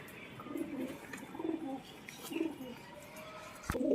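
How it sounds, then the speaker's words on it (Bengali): A male Malbai pigeon coos in a few soft, low, repeated phrases spaced about a second apart, with faint background noise and a sharp click at the end. "এই পায়রাটা মালবাই পায়রা নর"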